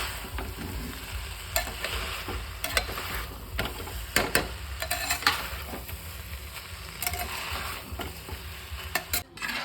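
Chicken pulao stirred in a pressure cooker: a spoon scrapes and clatters against the metal pot in irregular strokes over a soft sizzle, close by and without talk.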